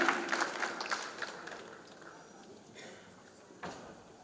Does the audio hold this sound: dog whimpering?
no